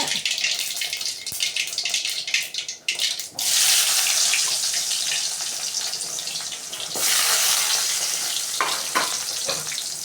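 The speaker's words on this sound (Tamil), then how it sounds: "வெங்காயத்தை நல்லா வதக்கிக்கலாம். சரிங்களா, சால்ட்டு போட்டுட்டு வதக்கிக்கிறோம்" Onions sautéing with salt in oil for a vendakkai puli kulambu, a steady broadband sizzle that surges loud partway through and holds, with occasional stirring scrapes, close up and without talk.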